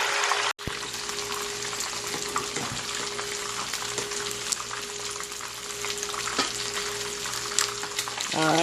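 Parrot fish frying in hot oil for a Jamaican-style crispy dish, giving a steady, loud broadband sizzle throughout with a sharp clatter near the start and a few faint clicks later, no talking.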